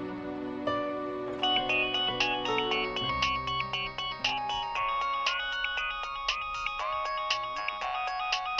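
A mobile phone ringtone plays alone, a bright electronic melody repeating steadily and fairly loud without pause, in an Indonesian drama scene.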